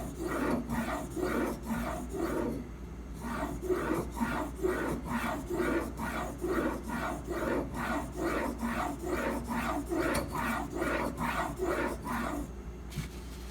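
A knife held in a sharpening clamp is stroked back and forth across a stone, making steady, evenly spaced rasping scrapes, about two per second, close and clear with no talk.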